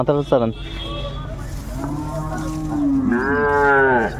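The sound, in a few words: Sahiwal heifer mooing at cattle market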